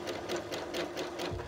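A sewing machine runs in free motion quilting on a narrow stitch width, a fast steady close whir of needle strokes that slows near the end.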